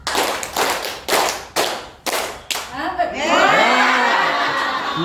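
Five sharp hand claps in a rhythmic group exercise during a school teacher training session, loud and close, followed by chatter and light laughter from the participants.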